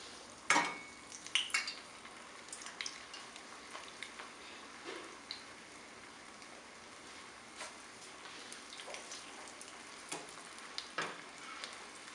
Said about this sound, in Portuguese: Então, agora eu vou fritar meu bolinho de queijo.